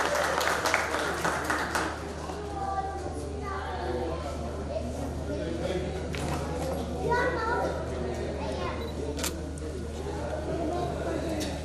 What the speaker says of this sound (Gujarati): જોરદાર તાળીથી આપણે એનું સ્વાગત કરીએ।